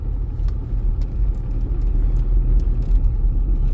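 Cars drive along a street in the town of Chavinda, giving a continuous moderate engine and tyre rumble with a few sharp clicks and ticks on top; no voices.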